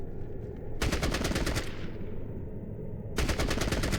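Video game gunfire from Fallout Tactics: Brotherhood of Steel, two loud rapid automatic bursts, the first lasting under a second and the second beginning after a pause filled with a lingering rumble.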